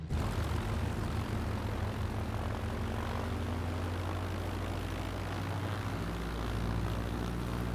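A simulated T-6 Texan propeller warbird taxis and pivots in place on the ground in a flight simulator, its radial engine droning steadily and loudly throughout with a constant low throbbing hum and no talk.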